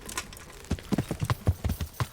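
A horse's hooves in Kingdom Come: Deliverance strike out an uneven trotting rhythm, about a dozen close, thudding clops over roughly two seconds, alone without talk.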